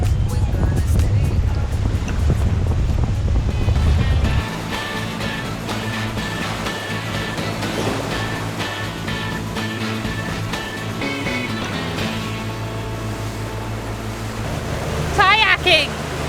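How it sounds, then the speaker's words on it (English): Ocean waves and wind wash steadily around a boat at Princess Louisa Marine Park, a continuous broad surf-like roar with a low engine-like hum partway through, loud and close, with a brief higher whine near the end. "Look at the waves."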